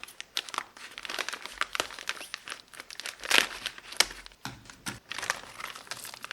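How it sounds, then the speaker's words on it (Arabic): Plastic packaging around frozen chicken burgers crinkles and tears open in a busy run of sharp rustles and snaps, close and fairly loud, with no talking. "خلينا نفتح السنبلة ونشوف عاملة ازاي."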